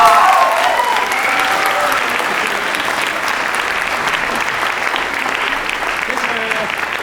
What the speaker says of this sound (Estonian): Aplaus palun